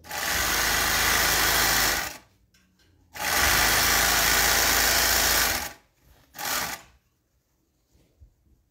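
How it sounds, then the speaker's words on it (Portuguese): A semi-industrial overlock sewing machine stitches in loud, fast bursts: about two seconds running, a short pause, a longer run of roughly two and a half seconds, then one brief final burst, all close up with no voices. "Vou fazer uma costura agora do outro lado"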